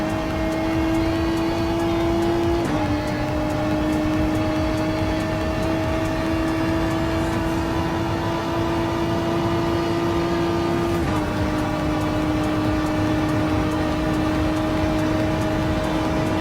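A race car engine in Gran Turismo Sport drones at a high, steady pitch while lapping, loud and continuous with one or two slight gear or speed shifts and no talking.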